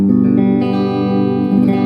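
A 1977 Ibanez MC 300 Musician electric guitar on its middle pickup position, tone controls fully up, rings out a loud, sustained chord, briefly re-struck partway through.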